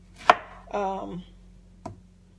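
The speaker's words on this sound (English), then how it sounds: "you could cut it up however you want. I like mine in chunks." Fresh pineapple being cut into chunks on a board: a sharp knife chop, a short scraping slide, then a second quieter chop, close and isolated with no talking.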